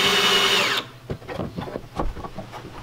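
A power drill whines loudly at full speed, then cuts off, followed by a string of clunks and knocks as screws go into a wooden garage storage shelf.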